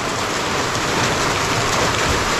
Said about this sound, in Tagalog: Yan na naman yung ulan.